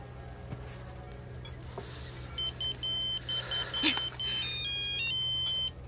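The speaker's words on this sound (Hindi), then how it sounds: "तुम्हारी माँ का फोन है।" A phone ringtone sounds at a moderate distance as a repeating electronic melody of short high tones, starting about two seconds in and continuing over faint background hum.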